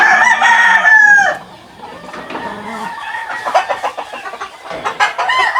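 Roosters and hens of fighting-cock lines crow and cluck close by; a loud crow opens, then a busy mix of clucking and calls from several birds follows.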